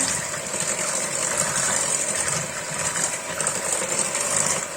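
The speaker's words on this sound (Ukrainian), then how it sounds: "Беру міксер і вмикаю спочатку на середню." An electric mixer runs steadily at medium speed, beating charlotte batter until foamy. It makes a continuous close whirring hum throughout, with no voices.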